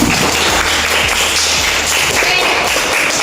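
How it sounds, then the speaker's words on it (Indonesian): Students in a high school classroom applaud their classmates, a steady, loud wash of many hands clapping close by with no pause. "tepuk tangan untuk teman-teman"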